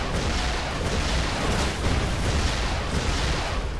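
Sustained shooting and booming in the 2D action video game Broforce, loud and continuous with dense overlapping shots and blasts, no voices heard.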